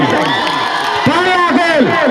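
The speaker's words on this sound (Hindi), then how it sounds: "एक बार और ताली होनी चाहिए" A dense crowd at a local football final cheers and shouts loudly and continuously, with whoops and raised voices rising over steady clapping.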